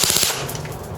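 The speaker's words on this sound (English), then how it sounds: "the gun's shooting almost 400 feet per second" An ICS Sig 552 airsoft gun fires a quick burst through a chronograph, rapid close snapping shots in fast succession over about one second.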